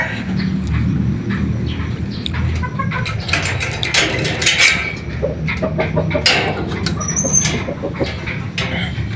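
Day-old Sweater Raptor gamefowl chicks cheeping and peeping in a dense, continuous chorus of high, thin calls, close by and steady throughout.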